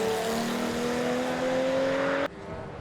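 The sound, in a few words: Alfa Romeo 156 race car passing at Cadwell Park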